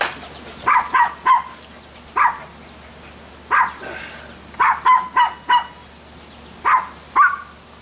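A dog barks in short, sharp bursts, mostly in quick pairs and triplets, about a dozen barks spread irregularly. The barking is loud and close in a quiet home.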